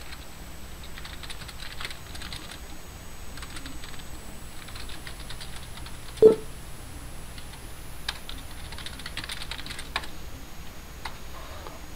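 Someone types on a computer keyboard, giving quiet, steady key clicks in irregular bursts with occasional sharper taps and one louder knock partway through, close and without talk.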